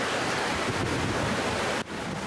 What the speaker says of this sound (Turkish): Altınkum iskelesinden rıhtıma çarpan dalgalar yürüyüş yoluna kadar taştı